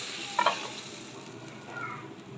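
Raw papaya and onion sauté in a pan, giving a soft steady sizzle with a couple of brief scraping stirs, fairly quiet and without talk.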